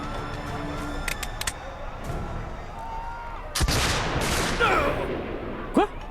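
A gunshot rings out during a scene in the Assassin's Creed Brotherhood video game: one sharp, loud blast over a busy game soundscape, followed by more brief bursts and rising tones.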